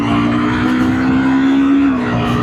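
A Honda CBR250R motorcycle engine holds a loud, steady rev with a sustained buzzing drone that eases down slightly near the end.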